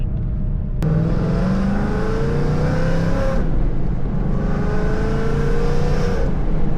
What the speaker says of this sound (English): It's just crazy on how well active exhaust actually works.